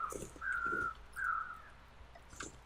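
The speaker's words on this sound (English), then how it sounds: "Okay, I do hear crows." Two harsh, drawn-out crow caws in the video game The Long Dark ring out clearly against quiet ambient background, followed by a fainter call near the end.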